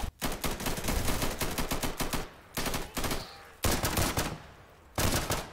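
Automatic gunfire in the tactical shooter Insurgency, loud bursts of rapid shots repeating in several volleys with short pauses between them, no talk over it.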